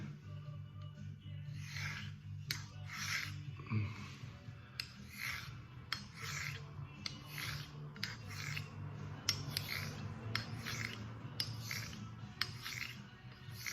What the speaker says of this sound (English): You can probably hear that sounds a bit gropey because the spine's got to shape up to the shape of this wheel.